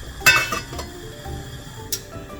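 A metal lid clinks onto a pot of simmering Korean samgyetang with one sharp close clink, followed by a softer second one. A quiet bubbling rises from the pot underneath.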